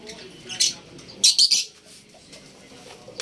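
African lovebirds in a home aviary, giving two short bursts of shrill, sharp squawks close by against a quiet background.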